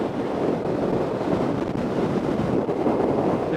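Wind buffeting a rider's microphone on a 2018 Peugeot Belville 125 scooter at speed, a continuous loud roaring rush with no speech.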